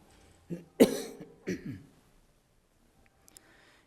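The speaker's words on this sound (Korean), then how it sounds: "법문하다 기침하니까 좀 미안하거든" A few close coughs from a monk giving a Buddhist sermon, one harsh and loud followed by a softer one, separated by short pauses in an otherwise quiet room.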